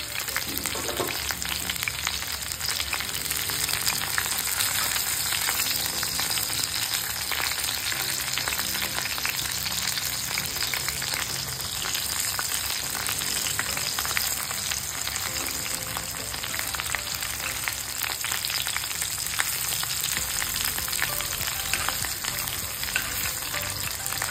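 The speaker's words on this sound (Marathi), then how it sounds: "खालची बाजू वरती, वरची बाजू खाली असं करून आपण फ्राय करून घेणार आहोत" Stuffed bitter gourds fry in a pan, a dense, continuous hiss and crackle of hot oil close up, steady and fairly loud for the whole stretch, with faint stirring.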